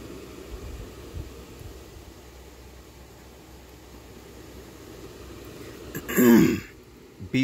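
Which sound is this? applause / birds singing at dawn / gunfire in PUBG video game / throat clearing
throat clearing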